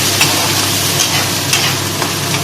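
Garlic, ginger, onion and tomato masala frying in a pan for a rui fish kalia, with a steady close sizzle and occasional scraping stirs throughout.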